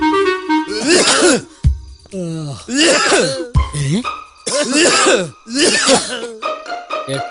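In a Malayalam movie scene, a person coughs and clears their throat in repeated harsh, rasping bursts, several fits in a row, close and loud with short pauses between them.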